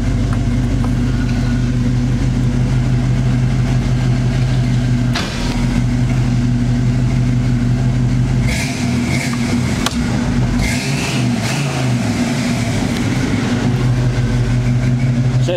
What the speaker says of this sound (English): The car sounds great.